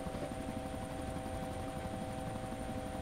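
A helicopter in a multiplayer shooter game drones on steadily for the whole stretch, a continuous rotor thrum with a faint high whine, fairly close and unbroken.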